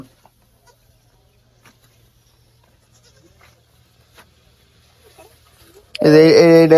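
A long stretch of near silence with faint scattered noises, then a loud, close goat bleat breaks in and runs to the end.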